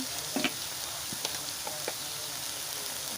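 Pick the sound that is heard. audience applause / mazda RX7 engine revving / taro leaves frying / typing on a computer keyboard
taro leaves frying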